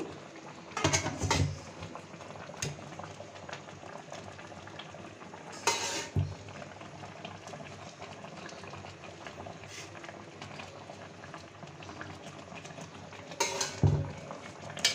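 A pot of chicken pilaf boils and bubbles steadily while chunks of chicken go in and a spoon scrapes and clanks against the metal pot, with louder stirring bursts near the start, middle and end.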